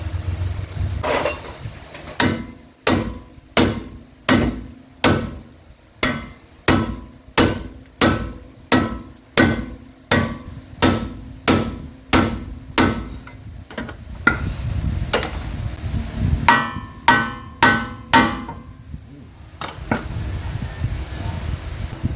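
Sharp metal hammer blows strike a stuck ball joint on a Ford Everest, a steady rhythmic series of about twenty loud close hits, slowing into a few scattered strikes before stopping.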